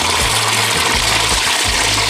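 Water pours steadily over freshly picked seasoning leaves being rinsed clean, a continuous close splashing gush with a low hum underneath and no talk.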